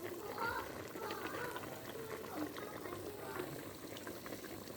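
A pot of Thai bitter beef tendon soup bubbles at a steady rolling boil close by, a continuous wet gurgle with a faint voice murmuring underneath.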